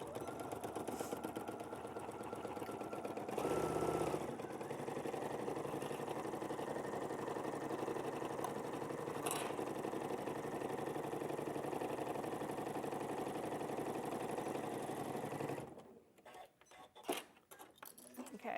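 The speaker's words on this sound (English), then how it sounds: "we're just going to sew along with right sides together along that top edge 3/8 of an inch, and make sure you reverse your stitch" Domestic sewing machine stitching outer fabric and lining right sides together along a top edge, a steady motor hum with fast needle rattle running continuously for about fifteen seconds, then stopping with a few clicks.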